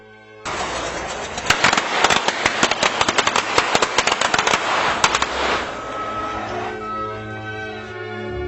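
Basic fuse-lit firecrackers go off in a long, rapid, irregular crackling string of sharp pops over a dense rushing roar, loud and close, then the bursts thin out and fade into a lingering hiss.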